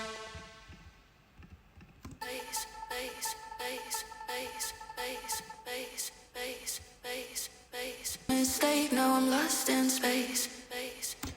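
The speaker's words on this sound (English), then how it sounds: "I think this is just a little bit of the vocal that's looped" A looped vocal atmosphere in a dancefloor drum and bass track, with a sustained airy pad alone at first, then a steady pulsing loop with drums and a brighter, busier build near the end.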